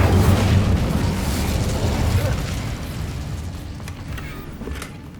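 The Incendio fire spell in Hogwarts Legacy, a loud whooshing burst of flame that roars at first and then fades into a softer crackling rumble.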